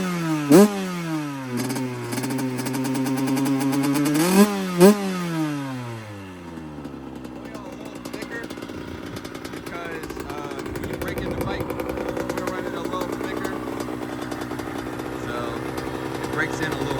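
A 2015 Yamaha YZ85 dirt bike engine, freshly top-end rebuilt, is kicked over a few times with sputtering revs, then catches and settles into a steady, buzzing idle that runs on loudly.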